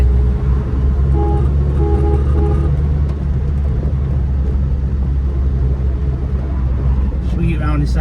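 A 1946 Chevrolet Fleetmaster engine pulls in second gear, a loud steady low rumble from inside the car with faint whining tones early on.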